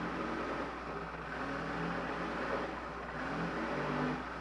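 A Porsche GT1 race car engine, running a little rough, idles with a low rumble and rises and falls through slow, gentle throttle blips, steady and close with no talk.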